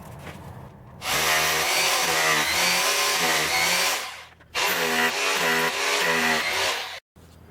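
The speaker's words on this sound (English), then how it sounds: "Pulling out the hammer drill" A hammer drill bores anchor holes into concrete in two long, loud, steady bursts with a brief pause between them, its harsh grinding whine running unbroken through each burst before cutting off.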